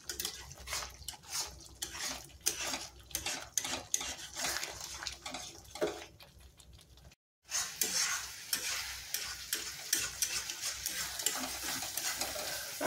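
Tomato puree being stirred into a curry gravy in a pan for chicken tikka masala, with steady scraping and stirring strokes and a sizzling bed throughout, broken by a brief silent gap near the middle.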